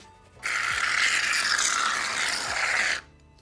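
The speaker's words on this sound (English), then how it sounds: "OMG guys, we need to shake it." A container of coffee-style fluffy slime shaken vigorously by hand, a dense, rapid rattling hiss that starts abruptly, holds for about two and a half seconds, then stops.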